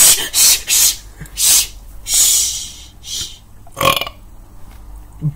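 Several loud, hissy bursts come in quick succession, a series of close, airy exhalations resembling burps or a voice imitating them, with quieter breathy sounds between.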